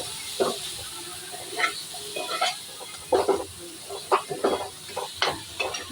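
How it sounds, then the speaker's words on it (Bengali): Ginger garlic paste sizzles in a hot pan while being stirred for butter chicken, with soft hissing broken by a series of short scraping and spattering bursts at an irregular pace. "এবার যে আদা রসুনের পেস্টটা রেখেছিলাম ওটা দিয়ে দেবো। দিয়ে ভালো করে কষিয়ে নেব।"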